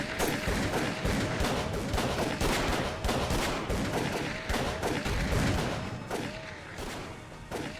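Heavy sustained gunfire in the horror game Call of Cthulhu: Dark Corners of the Earth, loud rapid shots in a continuous barrage with booming thuds, tapering slightly near the end, with no talk.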